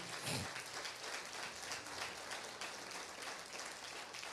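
A church congregation applauds during a Spanish-language sermon, a steady, dense wash of many hands clapping that fills the room evenly from start to finish.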